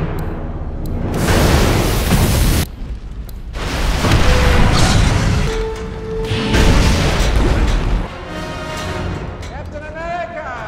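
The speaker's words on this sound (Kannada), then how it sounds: "ಹೈಡ್ರಾ ಬೇಸೆ ಸ್ವಲ್ಪ ಸ್ವಲ್ಪ ಅಂತ ಬ್ಲಾಸ್ಟ್ ಆಗೋಕ್ ಶುರುವಾಗುತ್ತೆ" Explosions rip through a Hydra base in a movie scene: heavy rumbling blasts in loud, sustained bursts with brief drops between them, layered with debris and mechanical clatter.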